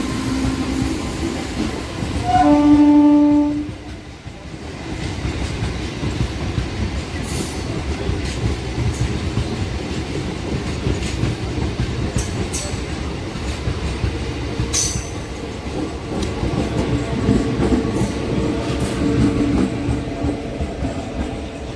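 The Meenakshi Express runs between Tirupati and Rameshwaram with a continuous low rail rumble and clatter, a loud horn-like tone near the start, scattered squeals and knocks from the wheels, and no talk.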